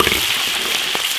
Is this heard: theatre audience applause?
no